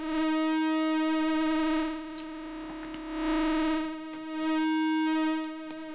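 The sine wave output of a Make Noise DPO, modulated by oscillator B's sine, gives a steady, bright, harmonic-rich tone that swells and dips in slow, regular waves, heard alone.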